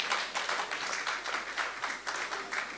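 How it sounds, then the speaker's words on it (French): An audience at a church ministers' meeting claps loudly and steadily, a dense, continuous wash of applause that fills the room, with faint voices mixed in. "Est-ce qu'on peut applaudir très,"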